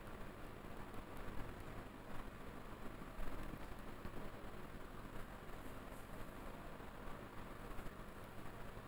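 Whole spices (dried red chillies, cinnamon, black cardamom and cloves) fry in hot oil as a tempering for chicken rogan josh. The sizzle is a steady, dense, faint crackle that holds evenly throughout, with no talking.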